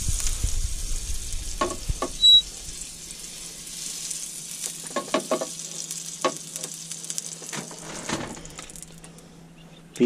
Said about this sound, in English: So a bit of butter, we'll get that sizzle going.